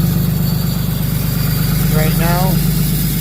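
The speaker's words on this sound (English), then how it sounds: "She's going to kick up the RPM" 2014 Ram pickup with a 6.7 diesel engine idling with a steady low rumble, then briefly climbing in RPM near the end, heard up close in cold weather.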